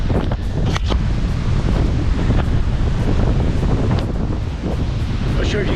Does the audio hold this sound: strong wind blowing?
yes